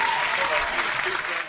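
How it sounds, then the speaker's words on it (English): A studio audience claps steadily and fairly loudly throughout, a dense continuous patter of many hands with a faint voice underneath. "Everybody clapping up to Justin coming in here real quick."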